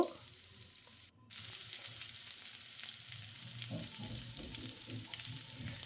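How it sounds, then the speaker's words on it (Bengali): Chopped gooseberries frying in a kadai with dried chillies, a soft steady sizzle after a sharp drop-in clatter, with occasional stirring scrapes. "এবার কেটে রাখা আমলকিগুলো কড়াতে দিয়ে দিলাম। একটু নেড়ে নেব।"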